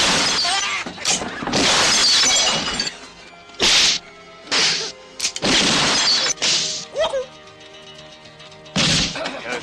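Glass shatters on a floor during a gunfight scene in a 1980 western, several sharp bursts of breaking and crashing separated by brief quiet gaps, loud and close.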